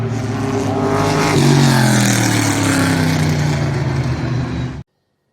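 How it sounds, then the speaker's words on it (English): A Vauxhall Lotus Carlton sedan engine in Forza Horizon 5 revs loud and close, its tone climbing through rising harmonics as it accelerates, then cuts off abruptly. "this is the Vauxhall Lotus Carlton, one of my all-time favorite sedans"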